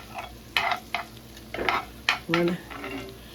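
A spoon scraping and clinking through meat sauce for spaghetti in a pan, several short irregular strokes close by with a faint sizzle underneath.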